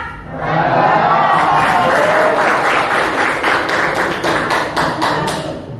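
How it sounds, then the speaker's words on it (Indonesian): A classroom of students claps after a lesson, the applause swelling quickly, then continuing as loud, close, fairly even clapping with a few distinct hand taps, and no talk over it. "tepuk tangan untuk siapa?"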